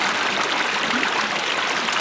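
Warm water flowing from small mountain springs, a steady broadband rushing and trickling that holds evenly throughout, fairly close and with no talk.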